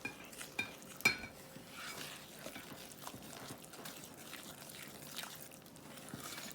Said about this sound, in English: Stir it till it's all mixed.